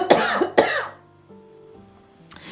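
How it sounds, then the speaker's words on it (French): Two sharp, close coughs in quick succession, followed by quiet with a faint hum, then a short rustle. "Et il faut encore que je tousse."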